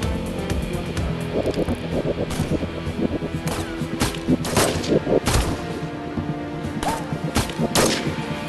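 Rapid sniper rifle fire in the Sniper Arena shooting game, a steady run of sharp cracks and booms over busy in-game background noise, several shots spaced a second or so apart.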